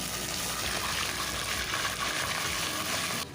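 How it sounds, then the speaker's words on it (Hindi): Bone-in beef frying in oil with browned onions for a Delhi-style nihari, a steady, loud, dense sizzle close up, with no talking over it. "गोश्त को फ्राई करें ऑयल के साथ।"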